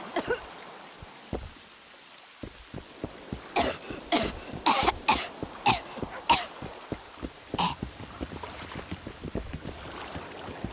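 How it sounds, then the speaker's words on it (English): A series of wet, phlegmy coughs and throat-clearing bursts from a character in the video game The Witcher 2, fairly close, coming in irregular clusters over a soft, steady background hiss. "It's a lovely cough. It's wet."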